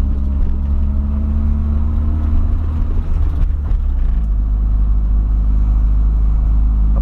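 A car passes close by on a road with a crackling exhaust, a heavy low engine rumble dominating throughout with a brief rise in rasp and pops midway, loud and continuous with no talk.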